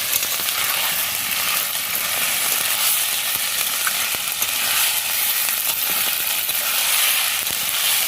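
Chicken sizzling and frying in a hot pan, a steady dense crackle that continues unbroken, close and fairly loud, with soft stirring scrapes and no voices.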